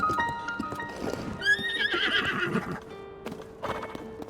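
Horses in the Zelda: Tears of the Kingdom video game neigh loudly and clip-clop nearby, with a shrill whinny rising over the hoofbeats and a chime-like game tone sounding briefly.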